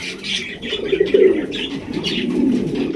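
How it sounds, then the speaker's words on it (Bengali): Large Bombay pigeons, a pair, coo in low repeated throaty rolls over about three seconds, close and steady, with faint chirps and rustle from other birds in a pigeon loft behind them. "এই যে আরো একজোড়া মাশাআল্লাহ ডাকের কবুতর দেখছেন নি, কত বড় সাইজের, বিশাল সাইজের একজোড়া বোম্বাই কবুতর"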